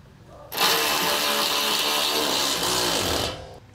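A power tool runs in one continuous whirring burst of about three seconds, loud and close, tightening nuts onto bolts through the frame rail to fit a Mount-n-Lock Heavy-Haulr replacement bumper on a 2020 Dutchmen RV.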